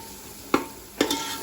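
Masala with onion paste fries in a pan for paya curry, a low sizzle running steadily underneath as a spoon scrapes through it twice in quick succession.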